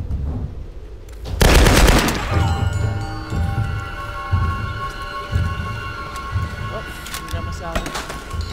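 Assault rifle fire in the Tomb Raider (2013) video game, a loud close burst of gunshots followed by repeated thumping shots and impacts over game ambience, with a voice talking.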